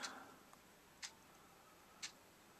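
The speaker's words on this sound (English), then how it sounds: "Cuckoo clock says 7:10." Cuckoo clock ticking quietly on its own, three faint, evenly spaced ticks about a second apart over a low background hiss.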